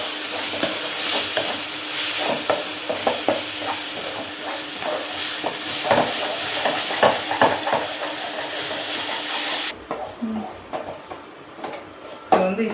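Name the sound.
sautéing ginger and garlic paste in a pan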